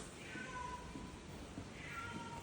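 Cats meow outside a hotel room at an oceanfront resort in Ocho Rios, Jamaica, two faint, drawn-out calls at the start and end over a steady background hiss.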